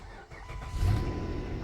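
A 2008 Dodge Avenger engine catching and settling, a brief rising rumble swelling into a steady low idle, close and moderately loud, without talking.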